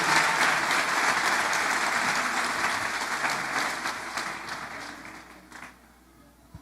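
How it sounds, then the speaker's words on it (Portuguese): A church congregation claps hands in praise for a couple, dense sustained applause that gradually thins and fades toward the end. "você tem como louvar a Deus com palmas pela vida desse casal"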